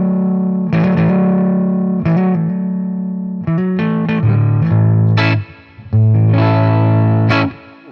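A Squier Contemporary Jaguar HH electric guitar, its neck humbucker switched to parallel, plays loud distorted chords and riffs through effects. Sustained ringing strums break into short choppy stabs, with one brief pause near the end.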